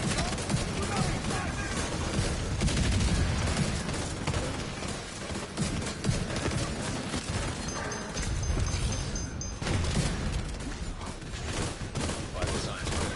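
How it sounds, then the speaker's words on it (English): Sustained heavy gunfire in The Division 2, with an agent shot from behind, dense overlapping automatic bursts and booming impacts filling the whole stretch under game voice alerts and a player talking. "Somebody's shooting me from behind."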